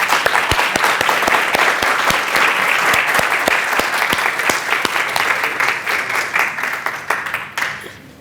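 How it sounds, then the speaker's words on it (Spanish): Sustained applause from a crowd at an academic conference, dense overlapping claps at steady loudness for several seconds, tapering off slightly toward the end. "Le damos un aplauso."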